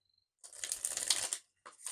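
A Tarot Original 1909 Circular Edition card deck is shuffled in one close, brisk riffling burst of papery flutter lasting about a second, followed by a short second rustle after a brief pause.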